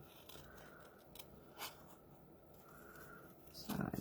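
Scissors trimming a stamped paper image, with a few quiet snips up close and faint paper rustle.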